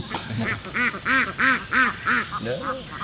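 A duck quacks in a steady run of about six or seven loud, nasal calls, closely spaced, with a couple of softer quacks at the end and some background noise underneath.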